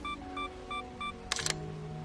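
A camera's two-second self-timer beeps four times at an even pace during an outdoor landscape shoot at sunset, and then the shutter fires with a quick double mechanical click at close range.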